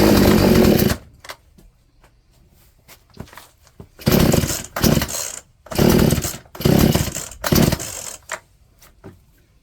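A chainsaw fitted with a new carburetor is pulled and fires up, running in loud bursts of high revving separated by short pauses and quiet handling sounds as the idle is adjusted.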